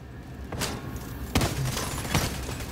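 Gunfire in Tom Clancy's The Division 2 during a player-versus-rogue-agent fight: a few separate sharp shots and thuds at moderate distance over steady game ambience, no talk.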